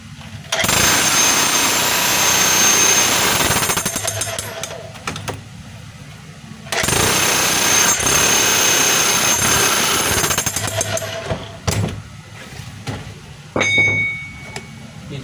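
A DeWalt D25899 10 kg jackhammer with a worn O-ring hammers a floor in loud, sustained bursts of dense rattling impact, pausing between runs, with a few short restarts near the end.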